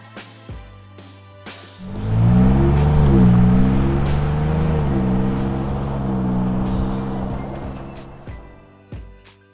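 Ford Bronco fitted with an MBRP aftermarket exhaust (single or dual rear exit, or high-clearance single exit) revs up loudly at close range, then holds a steady rumbling idle with shifting harmonics before dropping off, with some clicks near the end.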